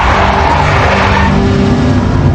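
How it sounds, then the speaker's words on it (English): A big black Mercedes skidding in Max Payne Mobile: a loud, continuous rush of tire and engine noise filling the whole stretch, dense and close, with no talk. "A big black Mercedes."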